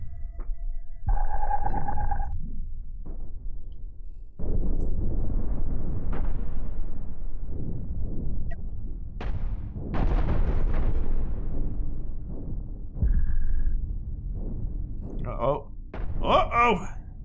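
Railgun broadside ship firing in Cosmoteer, alternating heavy cannon blasts booming in separate bursts with sharp metallic zaps between them, while someone talks over the gunfire.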